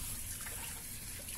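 Cold water pours in a soft, steady splashing stream onto a Moroccan seffa dish, close and quiet for a moment.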